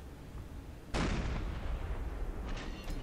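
A submarine deck gun fires at a ship in Silent Hunter III, one heavy booming shot that rolls out and lingers, followed by fainter rumbling and a couple of softer bursts.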